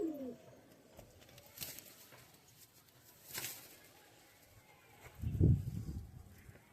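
Domestic pigeons in a home loft give a low, rumbling coo that swells near the end, with faint rustling and scattered ticks before it; no one speaks.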